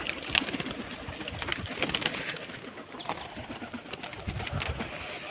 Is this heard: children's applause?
no